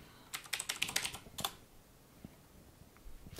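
A quick burst of close, quiet keystrokes on a computer keyboard as a terminal command is typed, then a pause and a couple of isolated clicks.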